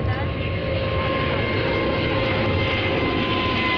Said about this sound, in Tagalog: Lagi pong may dumadaan ditong mga eroplano.